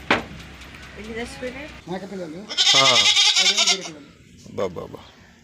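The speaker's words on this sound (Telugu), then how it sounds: "అరుస్తున్నాయి మేకలు" Goats bleat in loud, wavering cries on a village farm where dogs have killed many young lambs, calls rising and overlapping with someone talking before and after them.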